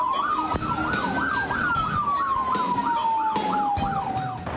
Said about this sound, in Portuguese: Sirene e giroflex.